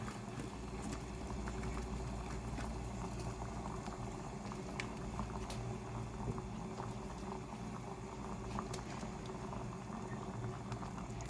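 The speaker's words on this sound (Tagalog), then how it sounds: "dahil kulong-kulo na tubig ay pwede na natin ilagay itong ating pancit canton" Pot of water at a rolling boil on a stove, ready for pancit canton noodles; a steady, dense bubbling roar with crackling pops continues without break throughout, close and fairly loud, with no talking.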